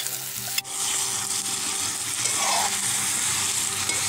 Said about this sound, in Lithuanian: Tai viskas jau pradėjo truputį svilti.